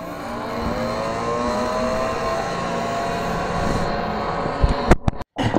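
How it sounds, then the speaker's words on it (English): A heat gun set on low blows hot air close up to loosen the adhesive on a BMW M2 front reflector. A steady, whooshing roar carries a faint whine, then ends in a few sharp clicks and a brief cutoff. "So I'm going to set my heat gun on low"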